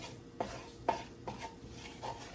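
Onions cooking in a pot with butter and oil for a one-pot shrimp and spinach pasta, heard as four separate soft scraping strokes of a utensil against the pot over a quiet background.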